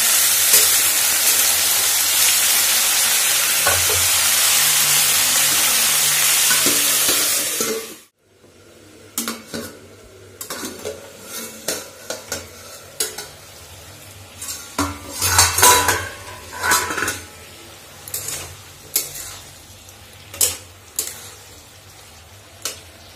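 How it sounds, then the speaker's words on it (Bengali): Mixed vegetables fry together in a pan with green chillies. A loud, steady sizzle runs for about eight seconds, then stops abruptly and gives way to clattering and scraping of a utensil against the pan. "আর সব কিছু দেখো একবারে দিয়ে ভেজে নিচ্ছি, বারবার আলাদা করে না ভেজে একসঙ্গে ভাজা হয়ে যাবে।"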